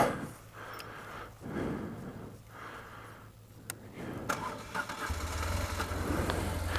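Harley Sportster motorcycle engine on a dual-sport ride in Butterfield Canyon cranking and catching, then settling into a steady low rumble, close and moderately loud with no talk.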